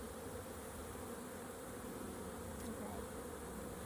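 Honeybees buzz steadily and densely inside an opened hive during an inspection, a close, constant drone with no talk over it.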